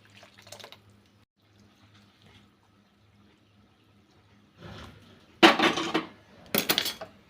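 Ground-paste water is poured into a pan of horse gram curry on a gas stove, a short splashing pour followed by wet clattering and clinks of a vessel and spoon, after a quiet stretch.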